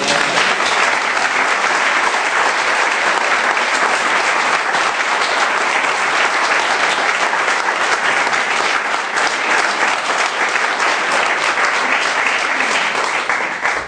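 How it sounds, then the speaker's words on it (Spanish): A church congregation applauds together in sustained, dense clapping that stays loud and steady throughout, with no break, while a few faint voices blend into the crowd noise. "Denle un aplauso al Señor por eso."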